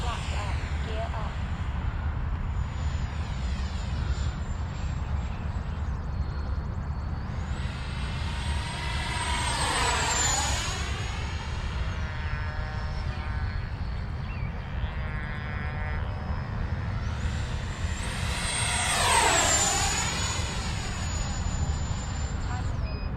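FMS Integral 80mm electric ducted fan RC jet in flight, a steady high turbine-like whine that rises and falls twice as it makes close passes, heard over continuous wind noise.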